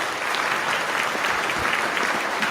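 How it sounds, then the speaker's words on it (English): Steady audience applause fills the room during an interview discussion about an upcoming film, a dense continuous wash of clapping with no talk over it. "I got to clap on that one."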